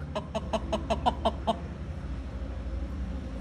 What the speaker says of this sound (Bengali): এটা একটা মোরগ